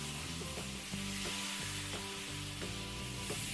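Pork belly sizzling and frying in a pan as it is flipped over to sear the other side, a steady close hiss with faint scraping and clinking touches throughout.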